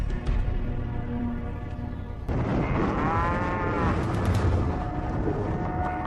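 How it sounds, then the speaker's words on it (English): Cattle in a remote cow pasture north of Phoenix let out a long, drawn-out moo midway, set against a steady, dense low rumble of outdoor background noise. "This remote cow pasture, a 3 hours drive north of Phoenix"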